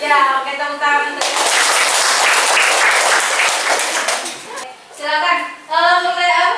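A classroom of students bursts into loud, dense clapping for several seconds during a teacher-training lesson at an Indonesian school, with children's and adults' voices speaking just before and after the applause.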